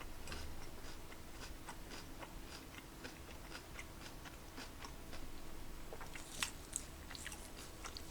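Quiet, soft chewing of soggy cereal with steady rhythmic mouth sounds, close up, against a low background hum and a couple of small clicks.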